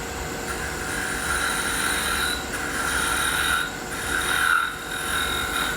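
A lathe turning tool with a dulling edge rattles against a spinning wooden finial, making a continuous scraping, chattering rub with steady whining tones that swell and ease in waves.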